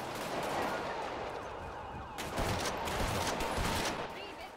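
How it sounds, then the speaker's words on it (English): Rapid bursts of gunfire in a police shootout video game, loud and dense throughout with a brief dip before a second heavy volley; voices talk over it. "They're shooting. They're shooting."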